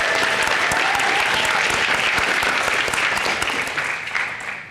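Steady applause from an audience at a county district attorney candidate forum, dense and continuous clapping that holds for several seconds before thinning slightly at the end.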